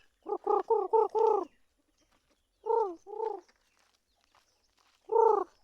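Several short, harmonic clucking calls in a quick burst, then a pair and a single call after pauses, close by with quiet between.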